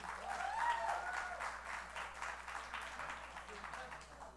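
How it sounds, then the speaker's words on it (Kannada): An audience at a Deepavali-Rajyotsava cultural program claps together in a soft, steady burst that sounds fairly distant and quiet, with faint voices mixed in. "ಎಲ್ಲರೂ ಜೋರಾಗಿ ಒಂದ್ಸತಿ ಚಪ್ಪಾಳೆ ಹೊಡಿ"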